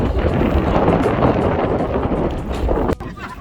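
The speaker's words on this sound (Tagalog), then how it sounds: "Grabe ang hangin din." Loud, constant strong wind buffeting the microphone on Nalusuan Island, Cordova, Cebu, with a dense roar that drops off abruptly near the end.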